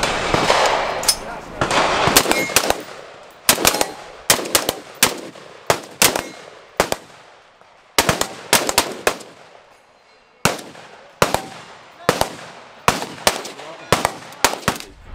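A PSA JAKL rifle fires many loud, sharp shots at an uneven pace, some in quick clusters and some single, with echoing decays between them.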